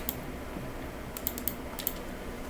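Scattered keystrokes on a computer keyboard, a few light clicks clustered in the second half, faint and alone over a low background hiss.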